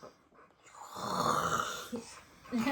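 Someone imitates a snore in a children's story read aloud, producing a drawn-out, breathy snoring sound that swells and fades, followed by a brief voiced sound.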